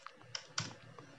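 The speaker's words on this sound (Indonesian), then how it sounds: "tombol backspace di keyboard." Quiet, close clicks of a computer keyboard, four or five light, uneven keystrokes like repeated backspace presses while correcting a spreadsheet formula.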